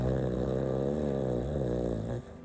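A man snores in a scene from the 2024 film El lugar de la otra with a loud, close, rumbling breath that is steady and continuous before trailing off.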